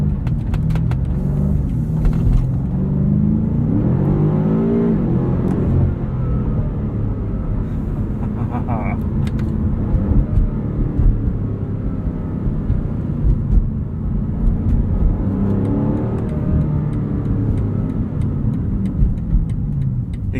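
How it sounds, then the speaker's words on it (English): A 2022 BMW M5 CS on the move, its engine and exhaust a steady, loud, deep drone with swells as revs rise and fall, plus road and cabin rumble throughout. "The exhaust sounds pretty different from the standard M5 competition."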